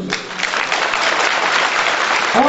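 A crowd at a 2014 political support event in Istanbul breaks into applause, a thick, continuous burst of many people clapping, close and loud throughout.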